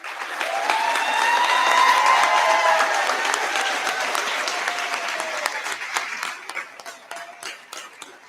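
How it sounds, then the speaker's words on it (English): Applause from a school recognition ceremony crowd as the class of 2028 stands, a dense round of clapping with some cheering that swells and then thins to scattered claps. "Would the entire class of 2028 please stand for a round of applause?"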